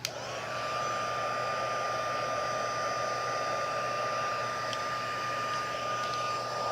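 A heat tool heat-sets embossing powder with a steady, close blowing whir. It starts up quickly, holds an even tone throughout with a faint high hum, and no one talks.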